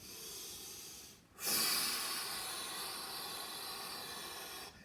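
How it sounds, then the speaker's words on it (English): A forceful, breathy resonant exhale, like a cough or sneeze, in a Pilates and chi kung exercise, rushes out after a brief pause, a long hissing breath close to the listener that trails off steadily. "Do a nice resonant exhale, like a cough or a sneeze."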